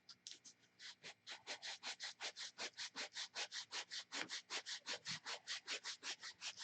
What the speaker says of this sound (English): We have to sand it down to the plywood.